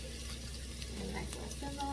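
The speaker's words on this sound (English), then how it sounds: "A nice little sizzle." Four cloves of minced garlic sauté in a pan for garlic string beans, giving a soft, steady, faint sizzling hiss throughout.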